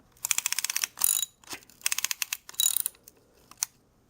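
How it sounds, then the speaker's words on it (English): A ring compressor ratchets tight around pistons for a stroked Acura LS/VTEC engine. Bursts of rapid, sharp metallic clicking come in several quick runs separated by short pauses, close and fairly loud with no talk. "Then we're going to take our compressor here, our ring compressor, and we're going to compress this down."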